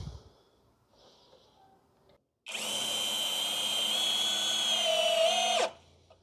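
A Hanabi 16V cordless drill drives a 5.5x35 self-drilling metal screw into wood, its motor whining loudly and steadily for about three seconds and then cutting off, after quiet handling noises and a short pause.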